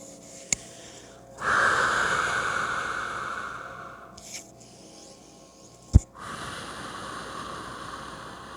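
Slow, deliberate breathing in a quiet room: long airy inhales and exhales, a couple of sharp sniffs or clicks between breaths, close and alone.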